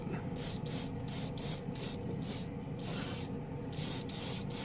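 A portable airbrush compressor sprays paint in repeated short hissing bursts, about a dozen quick pulses at an even rhythm over a low motor hum, close and fairly quiet with no talking.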